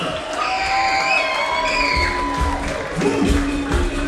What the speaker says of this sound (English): round of applause for Vieux Fort South